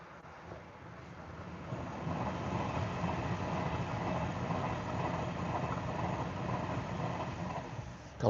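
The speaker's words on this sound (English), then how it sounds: "there's one Pendolino coming and the other one will be a Northern of some sort." A Pendolino train passes at a distance, a faint, steady rumble that swells and holds for several seconds.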